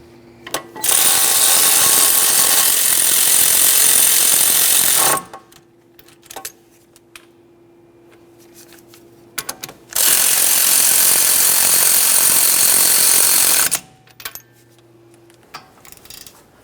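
Two long, loud bursts of a pneumatic impact tool snugging the caliper bracket bolts on a 2011-2020 Toyota Sienna knuckle assembly, separated by a quiet pause with faint clinks, each burst lasting several seconds.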